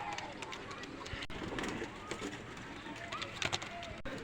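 A pair of young Pakistani teddy pigeons coos softly in a dim, noisy space, with low, faint calls scattered through a steady background hum and occasional rustling.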